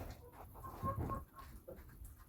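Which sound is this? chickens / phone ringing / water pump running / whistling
chickens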